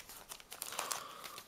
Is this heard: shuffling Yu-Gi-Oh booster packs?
yes